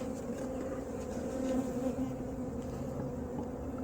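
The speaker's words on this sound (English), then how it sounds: "I got a lot of bees in there, so it should be fine." Honey bees drone inside a hive box, a dense continuous buzzing that stays steady and fairly close throughout, with no voices.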